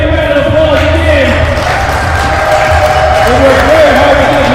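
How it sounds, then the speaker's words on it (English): Audience applause and cheering at an esports league event, a dense, steady wash of clapping and crowd noise filling the room throughout, loud and continuous with voices mixed in. "let's give our players a big round of applause again."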